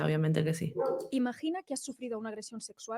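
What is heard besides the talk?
dog barking outside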